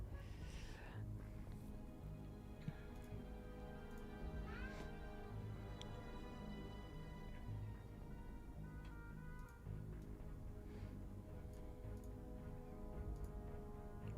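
Dimitri, a house cat, lets out a few short meows at intervals, fairly faint against a steady background hum and scattered ticking.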